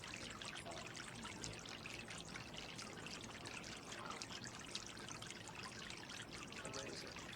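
Water trickles and splashes softly and continuously in a fountain at sunset in Palm Springs, faint and unchanging throughout.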